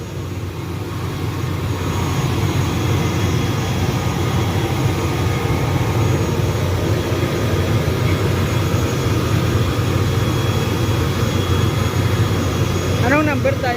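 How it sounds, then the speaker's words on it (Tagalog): Steady roar of a jet engine fills a passenger airplane cabin in flight, a loud constant drone with no breaks, and voices briefly chatter near the end. "First time sumakay ni Elisa ng eroplano"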